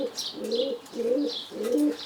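Roller pigeons coo close by in three drawn-out, throaty phrases with short gaps between them, with faint higher chirps over the top.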